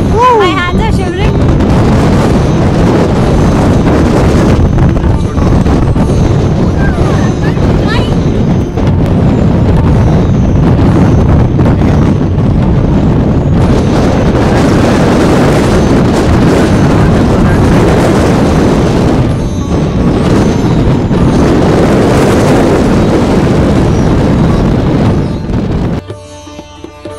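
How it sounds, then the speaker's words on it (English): Strong wind buffets the microphone throughout on a Brahmagiri mountain trek near the temple above Trimbakeshwar, a loud continuous roar with gusty surges that stops abruptly near the end. "So windy, right?"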